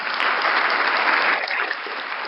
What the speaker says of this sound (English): Y'all don't got to clap at everything.